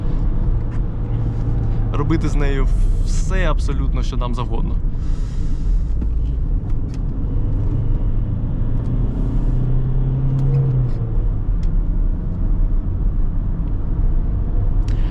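A Citroen C5's engine rumbles steadily from inside the car as it pulls away, with someone talking over it for the first few seconds.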